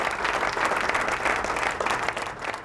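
Loud, dense audience applause at an Islamic quiz competition during Ramadan, steady and continuous throughout with no pauses, alone and without speech over it.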